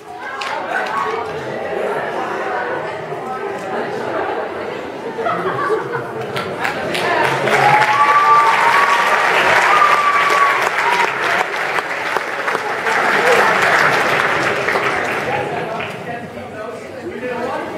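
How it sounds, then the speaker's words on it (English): Audience applause at a 2012 talent show air guitar performance: steady, dense clapping that swells toward the middle and holds, with crowd chatter and scattered laughter mixed in. "a huge round of applause for the audience"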